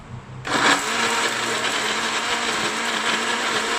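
A ten-year-old blender kicks on after a brief moment and whirs loudly and steadily, churning a mango passion fruit smoothie with a constant high motor whine and no talking.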